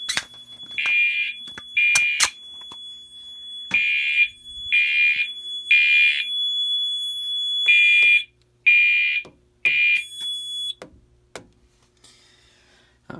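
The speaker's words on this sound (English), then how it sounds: "let's go ahead and reactivate the smoke detector with some of the good old smoke" A smoke detector sets off the fire alarm on a Mircom FA101T panel, giving a loud repeating electronic horn in evenly spaced pulses over a faint steady tone, with clicks and handling noise between.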